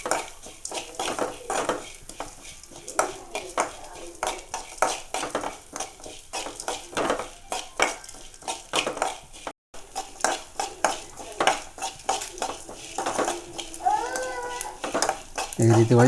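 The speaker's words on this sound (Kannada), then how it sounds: "ಈ ರೀತಿ ಒಳ್ಳೆ ಫ್ರೈ ಮಾಡಬೇಕು" Mangalorean chicken sukka masala with curry leaves frying in a pan while a utensil scrapes and clinks against the metal, with steady stirring clatter throughout and a voice talking over it.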